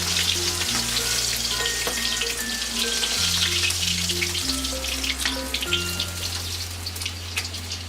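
Pieces of rui fish frying in oil, a dense, continuous sizzle with spitting crackles, heard close and steady beneath a background melody.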